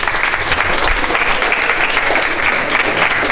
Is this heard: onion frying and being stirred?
no